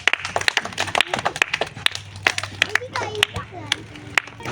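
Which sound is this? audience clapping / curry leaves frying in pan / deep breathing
audience clapping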